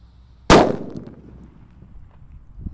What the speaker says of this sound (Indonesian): Lanjut ini yang jumbo namanya mercon Power guys.